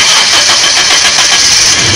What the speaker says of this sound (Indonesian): Ya, kita nyalakan mobilnya.